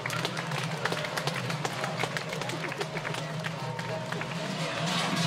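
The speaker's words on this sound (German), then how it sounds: "Geben wir einen warmen, herzlichen Applaus." Crowd applause at an Alpine cattle descent in Kerns, a dense, steady patter of many hands clapping outdoors for several seconds, with voices mixed in underneath.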